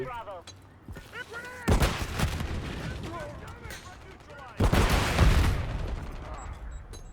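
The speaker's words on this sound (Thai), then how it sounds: "ปืนยิงออกทีละนัด" Single gunshots ring out in Call of Duty: Modern Warfare III, two sharp, loud blasts a few seconds apart, each trailing off with a reverberant tail, while someone talks over the game audio.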